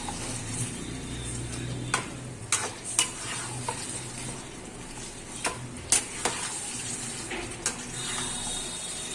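Mutton kosha is stirred in a frying pan at home, a soft continuous sizzle broken by sharp scraping clicks of a spatula against the pan at irregular intervals.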